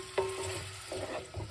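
Carrots fry in a pan with a soft sizzle and stirring, one sharp utensil scrape near the start and further quiet stirring later, heard close up without speech.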